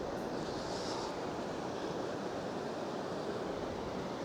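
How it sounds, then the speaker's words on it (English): Water runs off the ground outdoors in Shropshire, near a house and old walls, as a steady broadband rush mixed with strong wind buffeting the microphone, with no talk. "And you got the water coming off from down that way as well."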